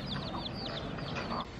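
Chickens and roosters cluck and chatter in a Mexican town, with several overlapping birds calling close by in a steady, busy stream against a noisy outdoor background.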